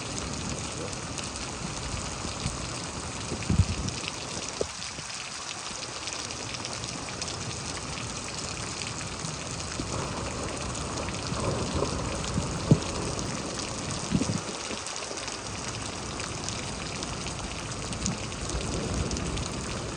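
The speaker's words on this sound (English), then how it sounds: "so much rain just fell so fast" Heavy rain falls steadily during a thunderstorm in Houston, Texas, a constant dense hiss with occasional louder splashes and brief thumps, close and continuous with no one talking.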